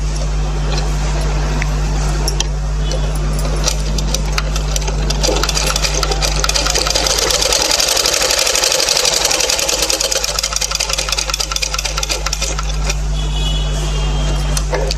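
Sewing machine running steadily through fabric during a tailoring lesson, putting a seam over two stitched layers together; a loud, continuous mechanical whirr with dense rapid stitching and a low hum throughout, no talk.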